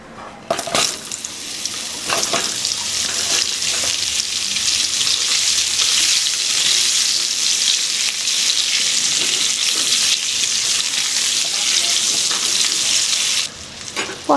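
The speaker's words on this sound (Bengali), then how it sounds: "ওই তেলের মধ্যে আমি কেটে রাখা পটলগুলো ভেজে নেব।" Sliced pointed gourd (potol) fries in hot oil in a kadai, giving a steady close sizzle that runs unbroken for the whole stretch with occasional stirring scrapes.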